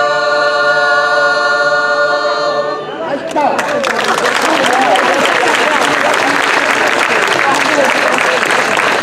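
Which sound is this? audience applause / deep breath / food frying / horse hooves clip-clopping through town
audience applause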